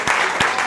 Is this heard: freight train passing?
no